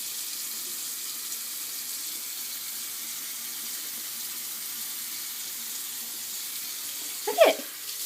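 Tap water runs steadily into a household sink as a soft, even hiss, with a brief squeaky sound near the end and no talk.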